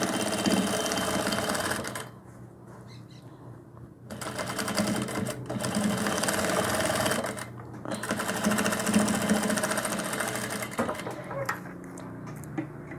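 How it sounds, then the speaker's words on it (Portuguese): A sewing machine topstitches a seam on a small dress for a rag doll, running in steady bursts that stop briefly and start again. "E vou rebater uma costura. Bem aqui, ó, no pezinho."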